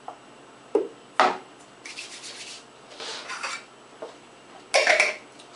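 Protein powder is mixed by hand in a separate container, with sharp clinks and scraping rubs of a utensil coming in irregular bursts between quiet gaps, close and fairly loud, with no voices.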